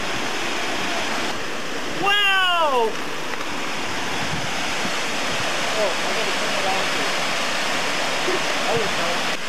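Waterfall at Kolapa on Molokai, Hawaii, roaring steadily as broad continuous water noise throughout, with a short whistled bird-like call and a brief exclaiming voice near the start.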